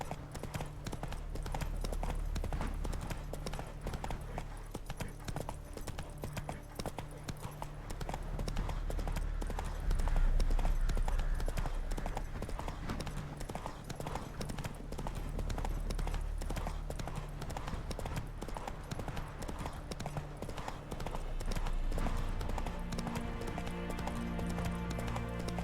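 Hooves of the horse from The Witcher 3: Wild Hunt clop in a fast, steady galloping rhythm over about twenty-five seconds, close and continuous with a low rumbling game backdrop.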